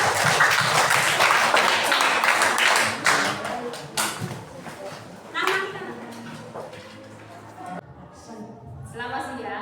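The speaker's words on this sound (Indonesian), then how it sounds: "Oke, tepuk tangan dulu buat kita." A group in a school classroom claps together, a loud burst of applause that fades within a few seconds into scattered taps, with voices talking over it.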